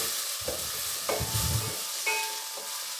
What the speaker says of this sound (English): Now add tomato, this 1 medium chopped. Saute it well.